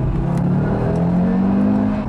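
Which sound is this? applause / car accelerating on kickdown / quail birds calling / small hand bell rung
car accelerating on kickdown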